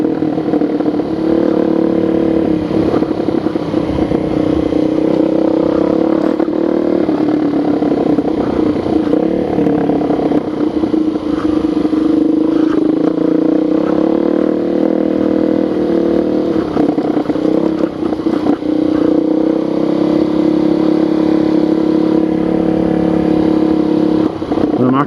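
A 2013 Suzuki DRZ400SM supermoto ridden through a neighborhood, its single-cylinder engine droning loud and close with steady revs and wind rush throughout.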